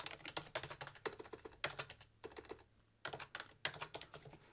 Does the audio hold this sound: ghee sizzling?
no